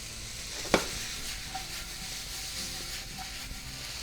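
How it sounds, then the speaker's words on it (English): Tomatoes, onion and garlic simmer in a pan with a faint steady sizzle and hiss, broken by one sharp clink of a utensil, no voices. "We're going to let that simmer for, about 5 more minutes."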